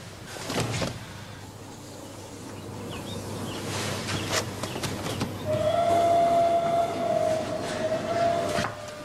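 A train rumbles closer with a growing mechanical clatter, then a sustained high whistle or screech sounds over the steady rolling noise.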